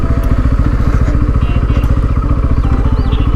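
A Bajaj F250 250cc motorcycle runs on the road, its engine giving a loud, close, smooth and evenly pulsing drone that holds steady throughout.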